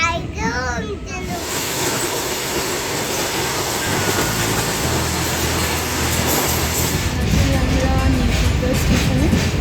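A crowded passenger train rumbles along with a steady, loud rolling roar and clatter, while people, including a child, talk nearby.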